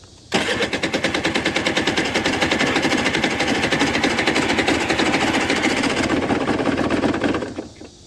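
An Aprilia RS125 motorcycle engine fires and runs loud and close with rapid, even pulsing for about seven seconds, then cuts off abruptly.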